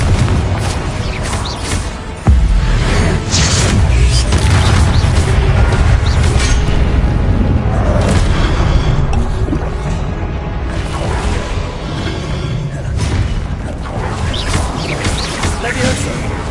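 Confringo blasting spell explosions in Hogwarts Legacy on PS5, loud dense booms and crashes through a constant roar of combat effects, with a sharp blast early on, while a voice shouts spell names.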